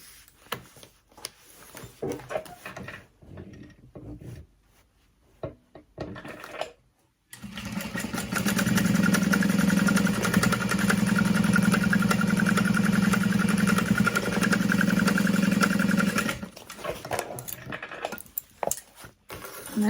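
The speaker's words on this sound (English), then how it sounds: "sew that in place using a 3/8 of an inch seam allowance" A sewing machine runs steadily for about nine seconds, stitching a 3/8-inch seam on a crossbody bag panel, preceded by quieter handling noises and fading to light clatter afterward.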